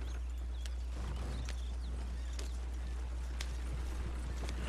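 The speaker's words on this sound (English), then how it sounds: "These horses don't like to go that fast when you have a wagon." Horse hooves clop along while pulling a wagon in the video game Red Dead Redemption 2, a steady, moderately paced series of hoofbeats over a low constant rumble, with no talking.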